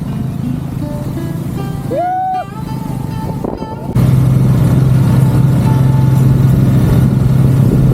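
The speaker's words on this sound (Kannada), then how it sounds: "ಬಿ ಸೈಡ್ ಅಲ್ಲಿ ಬೈಕ್ ಓಡಿಸೋದು ಅಂದ್ರೆ ಅದು ನಮ್ಮ ಪಸಂದಿದ ಬೈಕ್." A motorcycle rides along the beach at Murudeshwara in Karnataka, its engine a steady low drone that grows louder and stronger halfway through, with wind rush and a brief high whine earlier.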